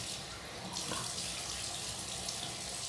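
Water runs steadily from a tap into a sink during a face rinse, a continuous close splashing rush with no talking.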